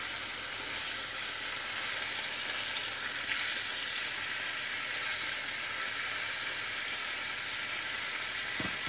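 Chicken breasts fry in a pan just after being turned, giving a dense, even sizzle that holds steady and fairly loud throughout, with one brief knock near the end and no voices.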